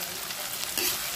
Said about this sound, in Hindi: टमाटर मसला पक रहा है धीरे धीरे सब अच्छा, टमाटर को पका लेंगे अभी सही से।